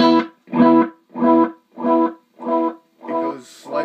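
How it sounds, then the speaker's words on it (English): Guitar note through a DIY delay pedal with distortion, repeating as a string of evenly spaced distorted echoes, about seven pulses, each with a gritty harmonic buzz and gradually fading. "you can hear the distortion there if you hold the note long echoes"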